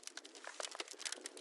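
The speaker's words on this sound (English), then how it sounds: "So the breaking ice noise sounds like this." A synthesizer's breaking-ice noise oscillator gives a short, faint patter of crackly, brittle clicks and crinkles.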